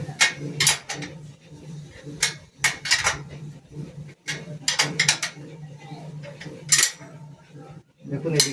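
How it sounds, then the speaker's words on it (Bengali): Bicycle wheel nuts and bolts being tightened, a run of sharp metallic clinks and rattles from a wrench in uneven bursts, close up over a low steady hum. "নাটবল্টুটা ফুল টাইট করে নিলাম"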